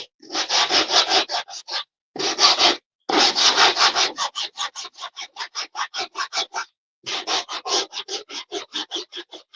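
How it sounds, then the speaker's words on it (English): Wax rag wiped across a rustic wooden patriotic sign, with loud close rubbing strokes, a few long swipes first and then a fast rhythmic series of short back-and-forth rubs with pauses. "And I'm gonna wipe it with my little wax rag"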